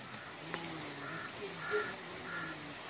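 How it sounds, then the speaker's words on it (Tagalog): A wild male bird gives a few harsh, crow-like caws at a moderate distance, spaced out over a steady background hiss. "Lalaking ibon."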